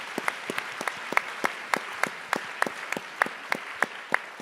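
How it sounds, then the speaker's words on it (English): At a Berlinale Talents panel event, a modest audience claps. Individual claps come through clearly as a sparse, uneven patter at moderate volume, with no voices over them. "Applause."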